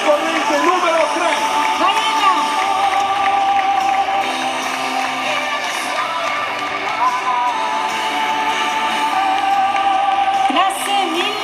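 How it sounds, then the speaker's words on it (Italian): Crowd at the Miss Chirurgia Estetica 2014 beauty pageant in Monselice cheers and applauds a contestant, a steady, dense wash of clapping, whoops and shouts running throughout, with music and an announcer's voice mixed in. "Monselice Rai, applaudi Eva Carrieri"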